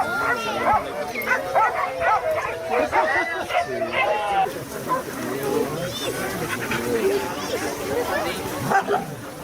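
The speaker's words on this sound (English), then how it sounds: "There's over 600 dogs here that visitors and volunteers can play with." Many dogs bark and yip together at a large dog shelter in Costa Rica, a dense chorus with whimpers mixed in and people talking over it.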